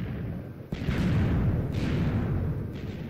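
A blocky TNT explosion in the Garry's Mod Minecraft addon, a deep rumbling boom opening loud and sustained with a second swell of blast noise a second later, filling the whole short stretch.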